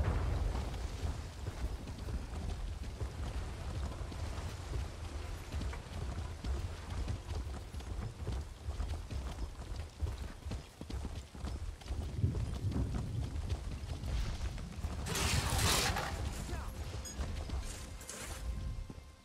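Rhythmic clip-clop of hooves running steadily for a long stretch, with a burst of louder noise near the end; from the video game The Elder Scrolls Online.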